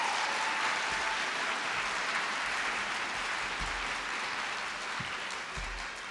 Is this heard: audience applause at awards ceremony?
yes